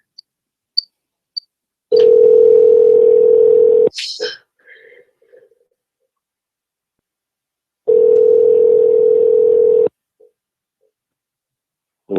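Telephone ringback tone while a call is placed, two long steady buzzes a few seconds apart, loud and close, with short clicks and a brief voice between them.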